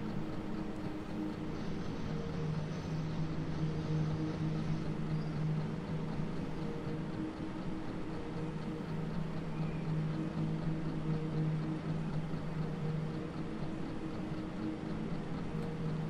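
A steady, low diesel train engine drone in Train Sim World 4 on the Arosa line, humming continuously under faint rumble with no talk, fairly quiet and unchanging throughout.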